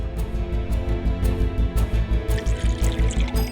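Drinking water poured into a glass, a steady, fairly loud liquid stream with a few splashy drips toward the end, set against a rhythmic low musical background.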